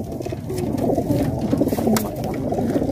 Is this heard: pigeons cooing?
yes